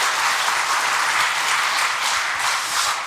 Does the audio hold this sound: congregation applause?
yes